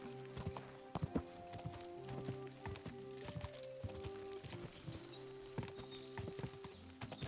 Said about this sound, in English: you want to ride Pebbles because if you keep riding her around, after a while, her stats will go up